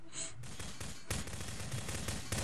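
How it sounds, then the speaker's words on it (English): Gunfire in a Prop Hunt video game as a player shoots at a desk: rapid bursts of loud shots, with a brief pause and then a steady stream of fire. "That's it, you keep shooting that desk."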